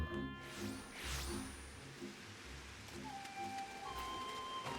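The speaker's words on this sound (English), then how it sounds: "it is raining really goddamn hard again" Steady heavy rain in a video game pours down without letting up, a dense close hiss over faint low rumbles and occasional distant tones.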